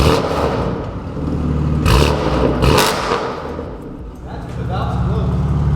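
A BMW G80 M3 with the S58 engine and an Active Autowerke midpipe revs loudly and close by, with rising bursts and crackling dips over a steady rumble.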